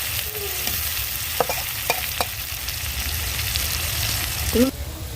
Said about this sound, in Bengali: তো মাছটা তো খুব কড়া করে ভেজে ফেলছি আর এখন একটু বেশি করে পেঁয়াজটা দিলাম